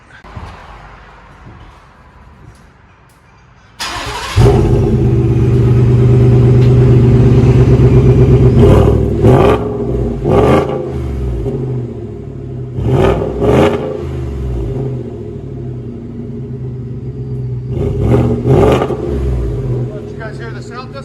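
A Ford F-150 with the 5.0 Coyote V8 and Rough Country exhaust fires up after a quiet moment, settling into a deep, loud idle broken by several sharp revs, with people talking faintly around it.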